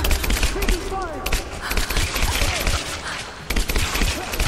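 Rapid bursts of gunfire in the video game Rise of the Tomb Raider, sharp repeated shots and fusillades filling the scene, with a player's voice reacting briefly over the shooting.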